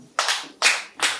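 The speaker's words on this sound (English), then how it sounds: "I want us to do locomotive clap." An audience doing a rhythmic locomotive clap at a breast cancer foundation gathering: three sharp, loud claps in unison, evenly spaced about half a second apart, with quiet gaps between.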